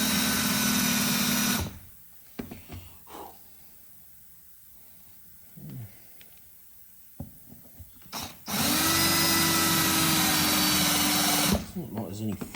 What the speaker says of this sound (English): now we should be able to get a drill down there